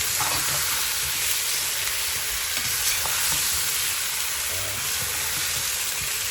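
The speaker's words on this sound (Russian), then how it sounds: "Пять минут обжаривается. Еще раз перемешиваем." Shashlik meat pieces frying in a kazan, a loud dense crackling sizzle filling the whole stretch, with occasional faint scrapes as the meat is stirred.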